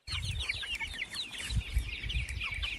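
Laying hens cluck and chatter steadily inside a chicken tractor on pasture, a dense flock of overlapping calls with low thumps and shuffling beneath, no voices.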